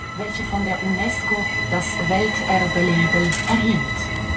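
Trenino Rosso red train rolling along near Tirano, giving a steady rumble of rail noise and wheel squeal while a person talks over it.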